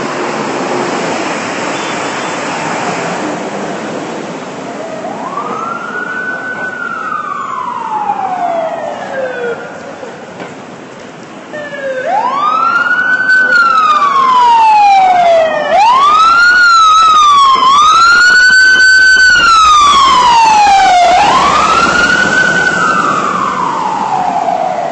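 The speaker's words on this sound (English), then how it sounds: "And I hear more sirens and traffic." Wailing sirens rise and fall repeatedly over a steady roar of city traffic in midtown Manhattan at night, growing louder and closer midway through.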